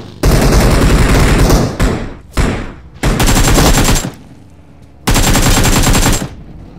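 In the PUBG Mobile video game, loud automatic weapon fire rips out in three long bursts and one shorter burst, separated by brief pauses, close and dominant over everything else.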